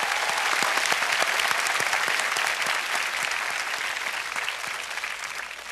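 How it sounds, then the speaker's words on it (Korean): A studio audience at a Korean TV comedy show applauds steadily, a dense wash of many hands clapping that holds at moderate loudness and slowly eases off toward the end. "박수 한번 보내세요"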